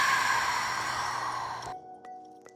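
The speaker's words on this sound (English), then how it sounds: "Take a deep breath in and a deep breath out." A slow, deep yoga breath drawn in and released as a long airy sigh, close and soft, fading into near silence with small faint sounds at the end.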